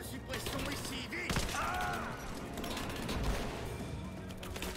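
Suppressive gunfire in Rise of the Tomb Raider, a muffled rattle of distant shots under game ambience, with a sharper burst partway through and faint tonal effects.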